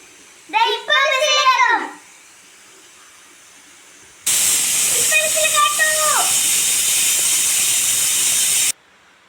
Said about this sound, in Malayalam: അപ്പോൾ ദേ വിസിൽ കേട്ടു കുക്കർ തുറന്നു